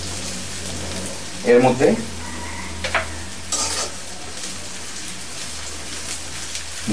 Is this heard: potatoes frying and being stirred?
yes